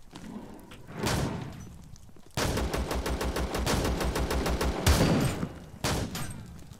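Rapid bursts of Vector submachine gun fire in ZERO Sievert, a long sustained string of evenly spaced loud shots, then a brief pause and a short final burst, with no talking.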